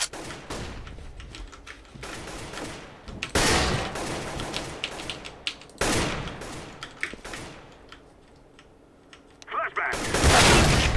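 Gunfire and grenade blasts in a CS:GO match, with loud bursts of shots and impacts in several clusters, including a flashbang being thrown, amid continuous game noise.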